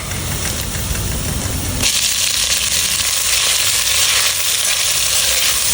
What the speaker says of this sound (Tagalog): diretso na natin itong igisa sa sibuyas,